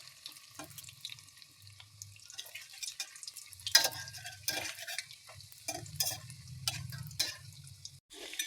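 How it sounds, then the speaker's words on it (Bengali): Manchurian balls frying in oil in a pan give a steady close sizzle, with intermittent sharp clicks and scrapes as they are turned and moved about. "দেখুন আমার মাঞ্চুরিয়ান বলগুলো কি সুন্দর ভাজা হচ্ছে"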